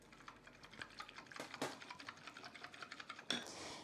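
Quick, light clinking strokes of a whisk stirring salt and black pepper into a casserole mix in a bowl, an even rapid rhythm, faint and close.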